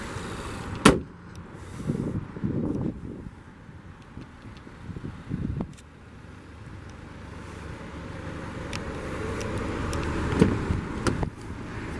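A single heavy metallic thump of a 2022 Volvo XC90 hood closing lands near the start, followed by scattered rustling, light clunks and a low hum of the parked car.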